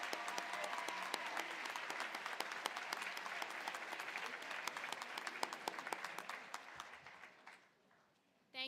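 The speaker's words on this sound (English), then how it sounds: "Please join me in a round of applause for everyone here who helped our graduates get to this moment" Steady applause fills a college commencement ceremony as the audience claps for those who helped the graduates, dense and even for about seven seconds before tapering off.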